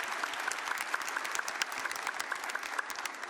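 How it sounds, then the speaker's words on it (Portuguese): A church congregation claps for viewers watching from home, steady and fairly loud applause from a sizable crowd that holds evenly throughout, with no voices over it. "Vamos dar uma salva de palmas para quem nos acompanha de casa."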